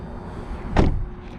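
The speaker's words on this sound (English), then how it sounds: "let me go ahead and lock the doors" A 2020 Nissan Armada SL locks its doors with a single short mechanical clunk, followed by a faint second click, close and otherwise quiet.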